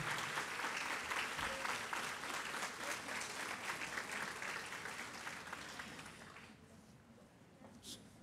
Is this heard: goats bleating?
no